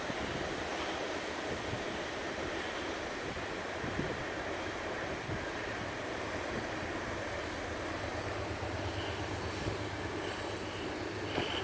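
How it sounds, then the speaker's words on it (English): A train rolls past somewhere in the distance in the Columbia River Gorge, a faint, steady rumble blending into broad outdoor noise throughout, with no one speaking. "You can just hear the train going by in the background."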